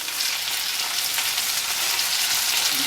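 A fish fillet, perch or other white fish, fries in butter in a pan with a steady, bright sizzle that crackles evenly from start to finish.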